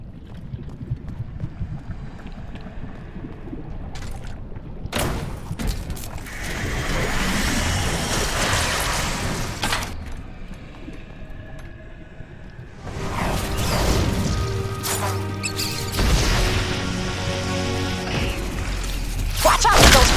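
Ghostbusters: Rise of the Ghost Lord on PS5, with ghost sounds and proton launcher fire heard as loud whooshing bursts, rushing noise and tonal electronic zaps in two main waves, no talking.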